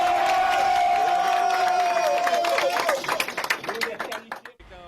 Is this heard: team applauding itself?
yes